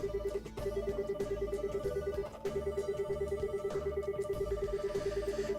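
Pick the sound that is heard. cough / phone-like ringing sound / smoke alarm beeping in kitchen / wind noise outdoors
phone-like ringing sound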